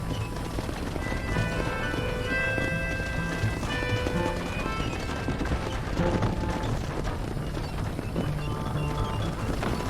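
Steady, rhythmic clip-clop of horse hooves from Red Dead Redemption, close and loud throughout, with clatter and faint game ambience behind and no talk.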